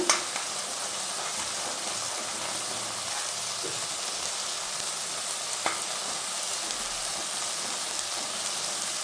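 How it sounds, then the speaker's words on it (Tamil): An egg sizzles steadily in hot oil in a pan for a drumstick flower stir-fry, a dense continuous crackle with a couple of brief utensil clicks and no voices. "அந்த எக்கை வந்து ஒரு ரவுண்டாக பண்ணிவிட்டு அதில் ஆயில் போட்டுட்டு அதை ஜஸ்ட் மிக்ஸ் பண்ணிட்டுருக்கேன்"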